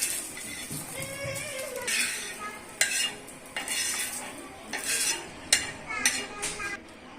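Roasted onion is stirred in a pan and scraped out into a dish, with a soft sizzle under repeated spoon scrapes and a few sharp clinks of utensil against metal.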